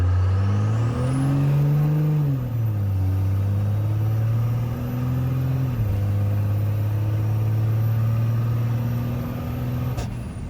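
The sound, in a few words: diesel truck engine revving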